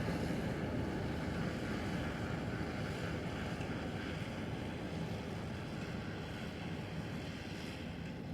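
Strong, steady wind roars and buffets across open farmland on a plateau during harvest, a continuous loud rush with heavy low-end gusting against the microphone throughout.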